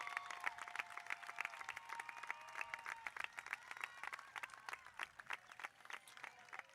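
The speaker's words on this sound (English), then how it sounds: "Please give them a round of applause." A graduation crowd at a high school ceremony applauds, dense rhythmic clapping from many hands holding steady and fairly close for several seconds.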